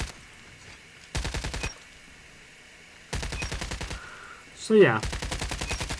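Bursts of LMG machine gun fire from COD Mobile, three sustained rapid volleys separated by pauses, loud and close, with a brief spoken remark between bursts.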